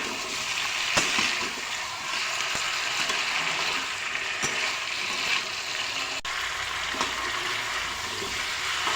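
Continuous crackling sizzle of spices and halved green chillies frying in hot oil, steady throughout with a few soft clicks and bumps.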